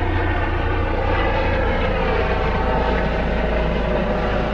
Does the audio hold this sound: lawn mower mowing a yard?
no